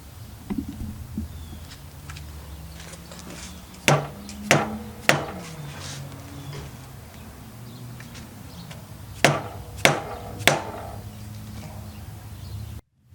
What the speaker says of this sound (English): After those bolts were loose, I hit it a couple times on this flange right here